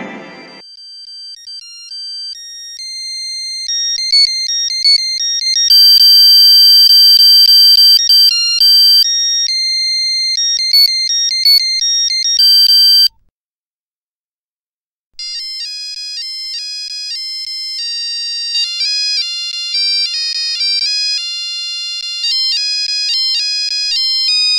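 A mobile phone rings for an incoming call with a loud, repeating electronic melody of bright tones that plays steadily, stops for about two seconds, then resumes.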